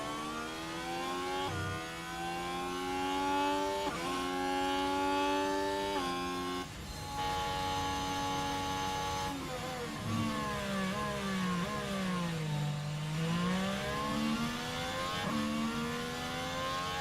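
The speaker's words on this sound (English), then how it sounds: "The engines make different sounds." Racing game car engines rev and shift repeatedly, pitch climbing and dropping through several gear changes, with a whirring tone sweeping down and back up near the end.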